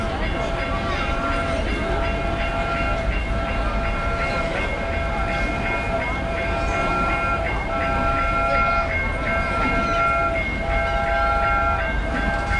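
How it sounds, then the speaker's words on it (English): A train rolls through a busy Shanghai street, a steady loud rumble and rattle of railcars with sustained horn-like tones layered over street noise for the whole stretch. "a train coming through."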